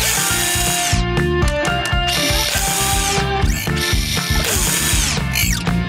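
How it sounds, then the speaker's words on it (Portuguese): A cartoon ratchet wrench tightening a fitting, with loud rapid mechanical clicking and whirring in quick bursts, punchy and close, heavily layered with sound effects. "Chave Roquete!"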